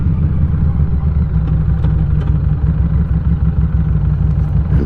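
Harley motorcycle engine on a fall ride, a steady loud low rumble with constant throttle throughout, heavy low-end drone and some wind rush, no voices.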